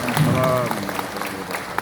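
Applause from a seminar audience for an associate professor speaker at a Malaysian university event, a broad wash of clapping under a voice that rises briefly at the start.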